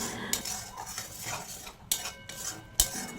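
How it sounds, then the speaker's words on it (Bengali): A spatula scrapes and clinks against a pan as a spice paste with cashews and raisins is sautéed for a vegetarian chana dal malai curry, giving a few sharp metallic knocks over a soft low bed of sizzle. "এবার আবারও মশলাটাকে খুব ভালোভাবে কষিয়ে নেব"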